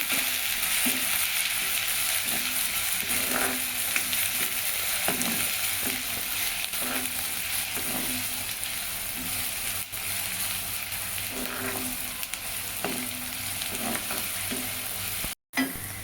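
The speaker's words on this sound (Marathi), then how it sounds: "कांदा जरा गोल्डन रंगावर भाजून घेऊया." Sliced onion fries in a pan for a capsicum and potato bhaji, giving a steady loud sizzle with occasional stirring scrapes throughout and no talking.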